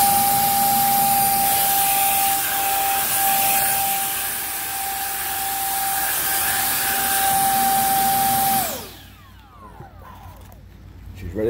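A 50 mm electric ducted fan in an RC T-33 jet model with an upgraded 4-cell battery whines at high throttle for several seconds with a steady tone, then spools down and stops.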